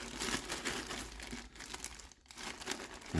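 Plastic wrapping around a Turtle Beach Stealth 700 Gen 3 Xbox headset crinkles and rustles continuously up close, with a short pause partway through.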